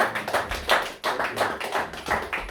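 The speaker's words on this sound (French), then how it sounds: "On applaudit" Congregation clapping at a church service, a rhythmic series of fairly close, distinct claps in a steady beat, moderately quiet.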